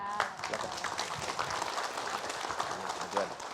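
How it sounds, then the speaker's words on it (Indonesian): Quiet, scattered clapping from women in a television studio audience, soft and brief beneath some background voices. "Tepuk tangan ibu-ibu boleh?"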